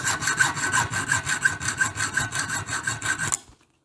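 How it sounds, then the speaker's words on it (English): A small fine-tooth hacksaw cuts copper tubing with about ten even back-and-forth strokes, a close, rasping rhythmic sawing that stops abruptly into silence. "This little hacksaw with the fine teeth, it works really nice on copper tubing."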